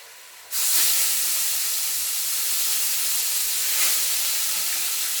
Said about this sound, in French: je vais mettre le poisson dans la poêle